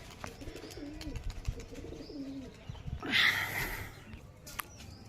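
Pigeons at a pigeon flying contest give soft, low coos scattered through the clip, then a brighter fluttering burst, heard close against faint outdoor background.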